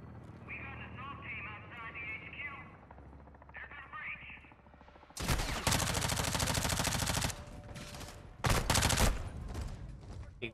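Shotgun fire in Call of Duty Modern Warfare 2 gameplay, two loud bursts of blasts that cut in abruptly after a stretch of quieter talk and background game sound.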